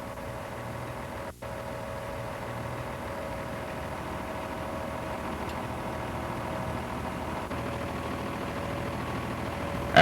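A wheel loader's engine idles steadily at a low, even rumble, close and continuous with no revving, and one brief dropout near the start.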